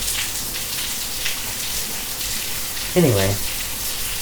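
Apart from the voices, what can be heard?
rain coming down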